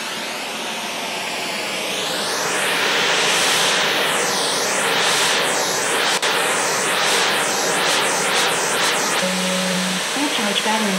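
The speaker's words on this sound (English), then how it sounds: "Pink noise coming out of both." Pink noise test signal played from two loudspeakers at once, a continuous broadband hiss with sweeping comb-like phasing swirls, ending with faint clicks and a brief tone near the end.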